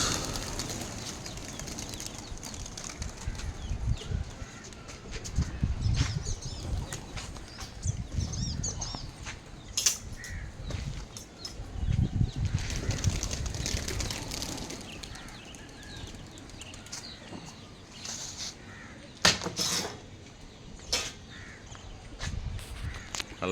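Homing pigeons in a loft setting flutter and flap their wings in repeated bursts, with scattered sharp clicks, bird calls and shuffling around them throughout, close and moderately loud.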